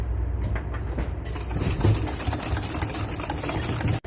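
Spiced pecan cake batter being whisked, a steady, close, continuous whirring drone that runs without a break and cuts off abruptly just before the end.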